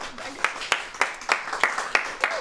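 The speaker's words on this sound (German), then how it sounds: "Ja, da darf auch mal geklatscht werden aus den hinteren Rängen." Hands clapping at an award ceremony for Hamburg's best training company, a steady, evenly spaced run of single claps from a small group, fairly close and distinct rather than a full crowd.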